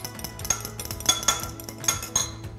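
Grain bowl ingredients with toasted sesame seed and spice are stirred in a dish, with a spoon clinking and scraping against the bowl in quick, irregular taps and short swirls, close by and without speech.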